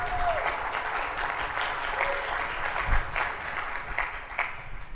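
Steady audience applause fills a conference session, a dense wash of clapping from a crowd that holds at an even level throughout without breaking into cheers.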